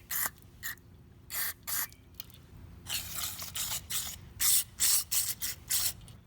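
Compressed air blasting through the main jet of a Honda Shadow VT1100 carburetor in repeated short hissing bursts, loud and close, with brief pauses between them and a longer run of rapid puffs toward the end.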